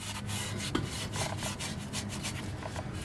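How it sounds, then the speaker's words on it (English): An abrasive Scotch-Brite type sponge scrubs rust from a car's front wheel hub, making close, steady rasping rubs in quick repeated strokes. "In this case, I'm just using this abrasive sponge."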